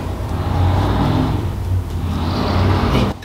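An old car passing outside a rural home, a loud, rough engine rumble that swells and holds steady before dropping off at the end, with no one speaking.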